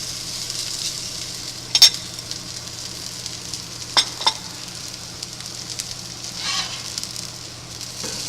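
Rehydrated potato hash browns sizzle in clarified butter in a pan with a steady, close frying hiss, punctuated by a few sharp clicks and scrapes.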